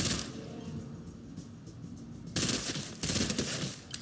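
Bursts of rapid gunfire in the video game Fortnite, a steady crackling barrage that swells into two louder volleys near the end, with no talking.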